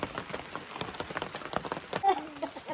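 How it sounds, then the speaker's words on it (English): Rain falls steadily during a tilapia fishing outing, a dense, even patter on nearby surfaces with a brief faint voice-like sound late on. "So it's raining."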